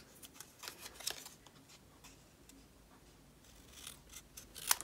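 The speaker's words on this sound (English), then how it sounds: "So I'm cutting away part of that little flap" Scissors snipping away part of a paper card flap while making a Christmas puzzle greeting card, with quiet intermittent cuts, small rustles and a sharper snip at the end, close with no talking.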